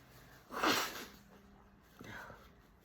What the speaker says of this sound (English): I'm going to go this way to blow my nose.